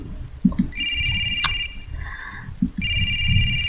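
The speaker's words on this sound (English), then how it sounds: "When I look around, I see a public phone. Apparently the sound echoing is coming from there." A public phone ringing inside the horror game Shin Hayarigami 2, two bursts of a bright electronic ring separated by a pause, with a softer tone and low muffled thumps underneath.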